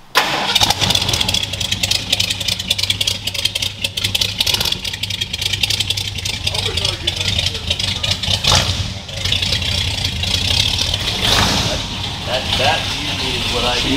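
Ford F150 engine with a missing spark plug wire cranking, then catching and running rough and loud close by, with people talking over it.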